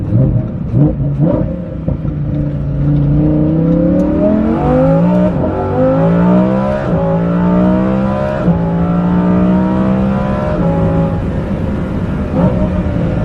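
A Lamborghini Huracan Performante with a Kline-Innovation exhaust system revs loudly up close, its engine note climbing through several rising sweeps, holding a high howl, then falling back with a few sharp blips.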